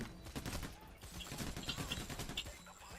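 Bursts of rapid gunfire in the video game PAYDAY The Heist, volleys of shots rattling fairly faint and continuous, with a person talking over them.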